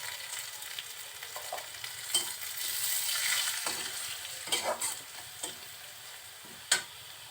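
Cumin seeds with salt and turmeric sizzle in hot oil for a Bengali poi shak stir-fry, a steady close crackle with occasional stirring clicks and sharper spatters, no voices.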